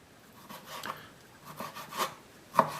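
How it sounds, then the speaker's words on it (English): A knife cuts rump steak into thin, uniform slices on a wooden board. Soft, quiet rubbing strokes repeat at an unhurried pace, each ending in a light tap against the wood. "you can see it there, how thin I'm slicing that"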